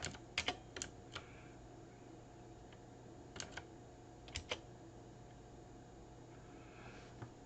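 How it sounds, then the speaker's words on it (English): Someone types on a clicky computer keyboard in a quiet room, with sharp keystrokes in short scattered bursts separated by pauses and no voices. "Sorry for my clicking keyboard here."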